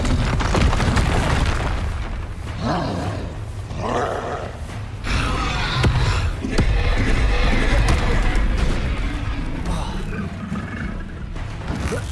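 Confringo, an explosion spell cast in the video game Hogwarts Legacy, lands as heavy booming blasts with a roaring rumble, loud and close over dense, continuous battle noise for the whole stretch.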